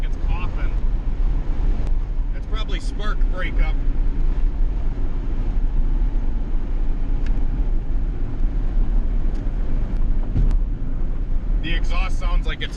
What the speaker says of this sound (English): the motor just sounds like it's fighting to build RPM